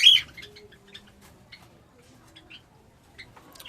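Java sparrows give short, faint chirps and tweets as they gather at food during winter, with scattered calls spaced irregularly over a quiet background.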